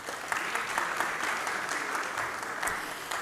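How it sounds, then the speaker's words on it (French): A roundtable audience applauds a newly introduced engineer guest, the clapping steady and continuous across the room, moderately loud with a dense, even texture and no voices standing out. "On peut l'applaudir."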